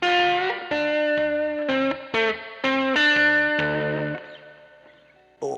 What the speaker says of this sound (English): turn up the reverb.